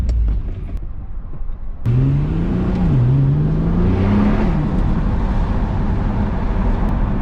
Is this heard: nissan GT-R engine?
yes